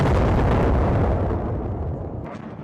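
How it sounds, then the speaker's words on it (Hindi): A powerful gas pipeline blast at an energy facility in Khorramshahr roars with a deep, heavy rumble that slowly decays over a couple of seconds, loud and close, with no voices. "गैस पाइपलाइन में जोरदार धमाका"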